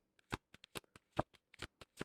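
A deck of cards being shuffled in quick, irregular riffles and snaps, close and fairly quiet, with no talking.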